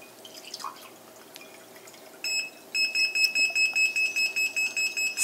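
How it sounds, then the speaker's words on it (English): Liquid trickles softly into a cup, then a hearing-assist liquid level alarm sounds a high electronic beep that turns into a steady run of regular pulsing beeps, loud over the quiet pour. "I'm going to pour liquid"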